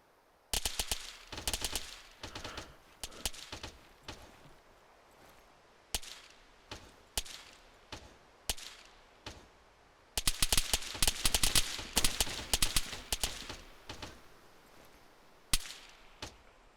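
Bursts of automatic enemy gunfire in a large-scale military shooter game, short rapid volleys and single cracks repeating with pauses, moderately loud with no talking.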